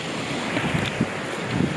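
A mountain stream rushes beside a simple hiking trail into Dolina Małej Łąki, a steady broadband wash of flowing water with soft irregular splashes, fairly close and continuous, no talking.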